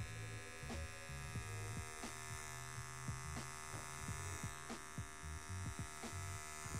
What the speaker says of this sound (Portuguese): Eu vou usar a máquina na zero, tá vendo?